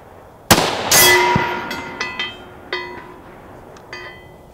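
A single sharp rifle shot fired at a 300-yard target, a loud crack followed by a ringing metallic ping and a few fainter clanks as the sound decays outdoors.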